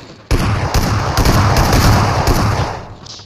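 Automatic gunfire erupts in a PUBG Mobile match, loud rapid bursts of shots rattling close by in quick succession, with several sharp breaks and a fading tail at the end.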